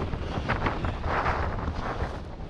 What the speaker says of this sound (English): So you might get a bit of wind noise.